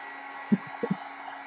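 Steady airy whir of a heat gun blowing to dry a gel print, with a few soft knocks and handling bumps over the constant hum.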